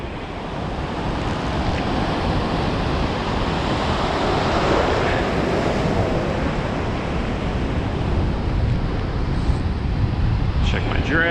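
Ocean surf breaking on rocks at evening, a continuous dense roar of whitewater with wind noise against the microphone, steady and loud throughout.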